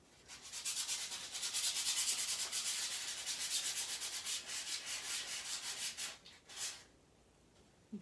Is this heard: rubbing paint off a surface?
yes